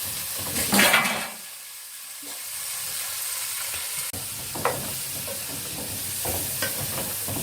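Cow trotters for soup sizzling in a pot while being stirred, a steady hiss of frying with occasional scraping clinks, moderately close and without voices.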